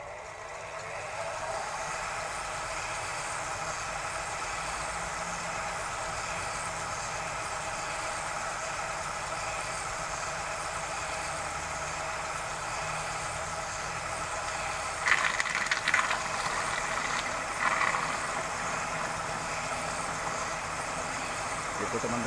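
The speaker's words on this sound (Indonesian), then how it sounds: "coba menghidupkan mesin kita ini untuk mengapungkan logam mulia ini" A flotation machine's engine runs for floating precious metals, a steady mid-pitched mechanical hum with a faint rattle, constant throughout and close, with a few brief clanks near the end.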